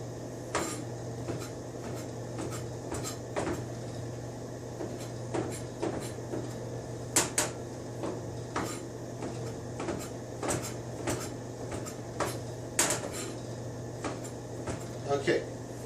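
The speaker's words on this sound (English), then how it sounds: "I'm going to take them and I'm going to cut them little slice like that." A knife slices fresh morel mushrooms on a cutting board in a home kitchen, giving irregular, fairly close taps and chops over a low background hum.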